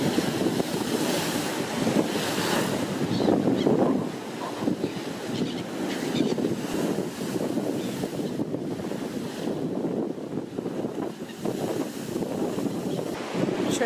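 Sea waves break and surge close by on the shore at Langeron beach in Odesa in November, a steady loud roar of surf mixed with strong wind buffeting the microphone.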